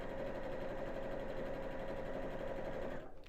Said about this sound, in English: So if you wanted to use your fancy stitches on your sewing machine, that'd be an idea